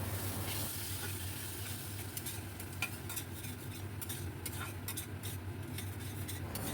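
Spice paste for a pointed gourd korma sizzles in a wok after a splash of water is added. A constant hiss runs under repeated scraping and stirring clinks, close by and with no voices.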